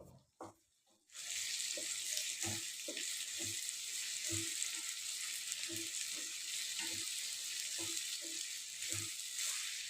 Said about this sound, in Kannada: 4 ಟೊಮೆಟೊ ತೊಗೊಂಡು ನಾನಿಲ್ಲಿ ತುಂಬ ಚಿಕ್ಕದಾಗಿ ಕಟ್ ಮಾಡಿ ಹಾಕಿದ್ದೀನಿ. 2-3 ಮಿನಿಟ್ಸು ಎಣ್ಣೆಲೆ ಚೆನ್ನಾಗಿ ಫ್ರೈ ಆಗಬೇಕು.